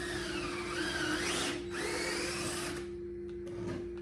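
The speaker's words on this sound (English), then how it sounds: "while he's drilling all of those holes in" A power drill bores holes into furniture during a DIY flip, its motor whining in steady bursts with rising and falling pitch, then cutting out near the end, leaving a steady hum.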